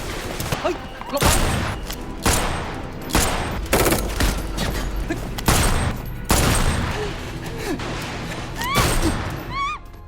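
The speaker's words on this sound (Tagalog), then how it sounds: "sumiklab ang isang matinding putukan sa pagitan ng dalawang grupo" Intense film gunfire exchange between two groups, repeated bursts of shots and booms at uneven intervals, loud and close, with a voice speaking between the volleys.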